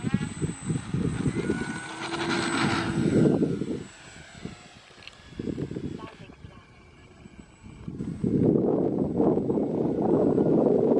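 An E-flite Cirrus SR22 RC model airplane flies slowly overhead on a sunny day, its motor whining and droning as it swells and fades in passes, with a person talking intermittently nearby.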